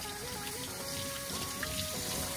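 Hot water from a tap runs steadily over a frozen toy egg in a sink, a close, continuous gushing splash.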